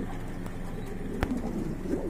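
Pigeons coo softly and nearby, low throaty calls repeating over a quiet background.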